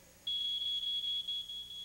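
A smoke detector in a home fire demonstration sounds a steady, loud high-pitched electronic tone that starts abruptly and continues unbroken, with slight pulsing in level.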